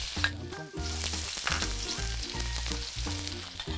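Peppercorns, fennel seeds, ginger and red onion sizzle steadily in a heated pot for braised rice cakes, a close, continuous frying hiss with occasional stirring scrapes and no talk.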